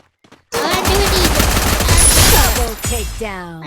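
Gunfire in the battle royale game Free Fire starts abruptly as a loud, dense burst of rapid automatic shots that runs for about two and a half seconds before ending in a few trailing ricochet-like tails.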